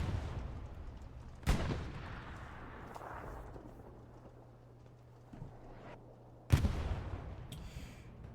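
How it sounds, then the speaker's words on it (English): Artillery shells land in the Hell Let Loose battlefield game: two sharp booming impacts several seconds apart, each trailing off into a rumbling decay over quieter distant battle noise. "Both artilleries are on point once more"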